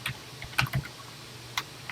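Typing on a computer keyboard during a World of Warcraft live stream, a few quick close key clacks in short bursts, then a pause and another brief flurry, with no talk.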